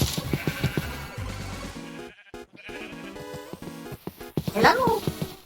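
Minecraft sheep bleat several times from a rainbow and an upside-down sheep on a survival multiplayer server, heard over busy game music and sound effects, with a voice talking through part of it.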